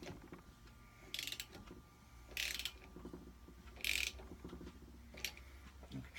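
Ratcheting wrench tightening a nut during a Porsche 911 SC Targa engine rebuild, four short bursts of clicking spaced about a second apart, close and moderately loud over a quiet workshop background.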